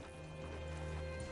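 Horse hooves in Red Dead Redemption 2 clop in a steady, fairly close rhythm over a constant low game ambience and hum, with no speech.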